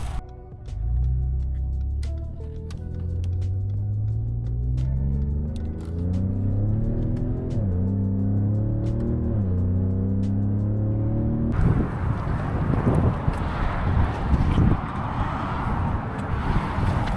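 A Ford Raptor pickup truck drives on a snowy road trip, its engine a steady low rumble with rising and falling gear tones, followed by a rougher, broadband road and wind roar in the cab.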